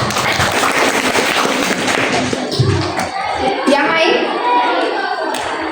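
Students clap together in a classroom, a burst of quick overlapping claps that thins out after a couple of seconds as a teacher's voice comes in over the room.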